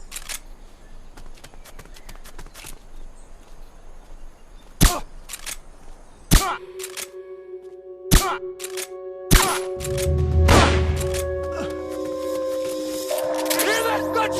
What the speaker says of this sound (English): Hear that? Gunshots!